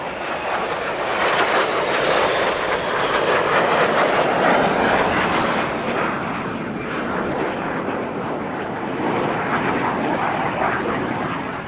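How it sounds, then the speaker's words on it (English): Three Dassault Rafale jets roar past on a display pass at an airshow, a loud, sustained, broadband jet rumble that swells and holds steady throughout without any voices. "now a second pass from the Rafale trio"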